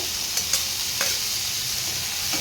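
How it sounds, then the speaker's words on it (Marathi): Cleaned prawns frying in a pan with turmeric, homemade masala and Kashmiri masala, giving a dense, continuous hiss and sizzle punctuated by a few light stirring clicks, close and steady, with no voices. "घरचा मसाला आणि काश्मीरी मसाला आणि स्वच्छ करून घेतलेली कोळंबी घालणार आहे"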